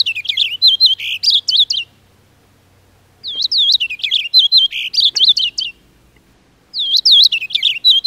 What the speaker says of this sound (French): Là, on voit des roselins pourprés femelles.